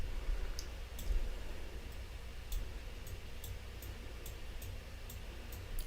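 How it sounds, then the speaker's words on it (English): A computer mouse clicks in a quiet room as someone drags curves with a pen tool in graphics software: faint, sharp, irregularly spaced clicks over a low steady hum. "I'm clicking and dragging in order to get my curves."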